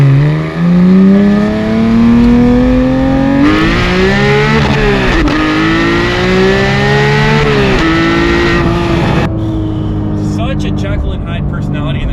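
Porsche 991.2 GT3 engine revving hard on the move, loud rising and falling pitch sweeps through gear changes, close and dominant, with a voice speaking briefly over it.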